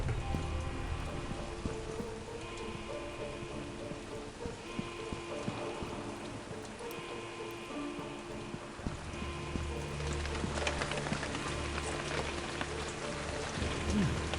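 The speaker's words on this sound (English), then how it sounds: "That's the rain sound." Steady rain pattering on a surface in the video game Soldier of Fortune, a broad constant hiss with faint distant rumbles, no voices.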